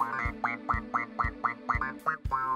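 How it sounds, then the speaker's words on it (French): A steady run of quacks repeats in quick rhythm, about ten nasal calls close up, with a low thumping beat underneath, like a cartoon duck in a children's story. "« Coin, coin, coin !» disent les canards tout contents."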